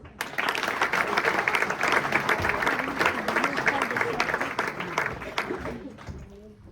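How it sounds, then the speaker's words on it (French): A cabaret audience greets a performer with a full, sustained round of clapping, thick and even for several seconds before it tapers off into quiet near the end. "Faites un tonnerre d'applaudissements."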